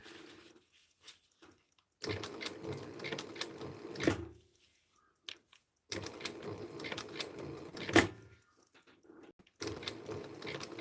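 Sewing machine stitching two pieces of material together around an egg shape in a bladesmithing workshop, running in two long bursts of rapid mechanical chatter separated by quiet pauses, close and moderately loud.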